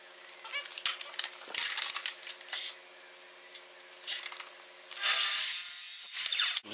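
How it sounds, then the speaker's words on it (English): A mitre saw cuts plywood being trimmed for camper van wheel-arch boxing, with two bursts of harsh, loud cutting noise separated by a quieter pause and no talking. "So we're going to take to the mitre saw and do that."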